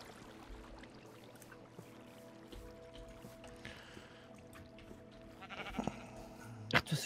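Minecraft sheep bleat in a short burst near the end of the stretch, rising over faint game ambience and a low steady background hum.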